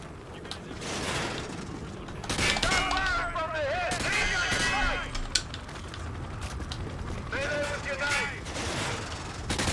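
Gunfire from the Call of Duty Modern Warfare Remastered video game, a steady run of shots and impacts heard over the whole stretch, with occasional game voices mixed in.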